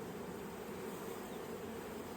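A dense, steady buzz of many honey bees swarming close by during a hive inspection, continuous and even throughout with no pauses.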